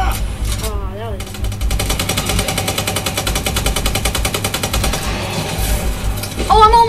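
Rapid automatic gunfire rattles continuously through a Call of Duty Advanced Warfare Exo Zombies match, with steady bursts beneath game effects and brief tonal chirps near the start and end.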